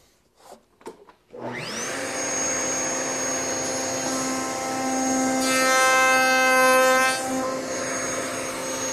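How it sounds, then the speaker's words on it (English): A router spins up with a rising whine after a few handling knocks, then holds a loud, steady high-pitched scream while making cope cuts on small wooden pieces, the tone shifting as the bit bites into the wood. "turn our router on, and make our cope cuts"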